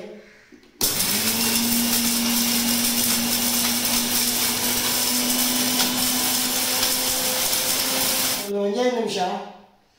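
A mixer grinder grinding spices whirs loudly and steadily for several seconds, then cuts off and winds down with a rattle, with brief talk at the start and end.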